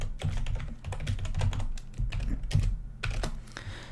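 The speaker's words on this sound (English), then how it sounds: "Typing noises begin." Rapid typing on a computer keyboard while writing code for a random abstract art generator, steady close clicks and clacks with brief pauses, no talking.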